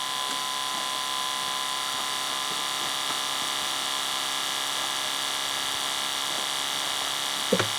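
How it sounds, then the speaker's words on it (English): Electric fuel lift pump on a GM 6.5 diesel running with the key on, a steady high-pitched electric whine and hum that holds constant throughout, close and moderately loud, with no voices. "now I'm going to have to talk over the lift pump"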